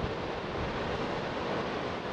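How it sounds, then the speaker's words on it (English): Ocean waves crashing into the shore below a coastal hiking trail near Oceanside's three arches, a steady broad wash of surf with wind, heard from a distance and continuous throughout, with no voices. "got waves crashing into the shore"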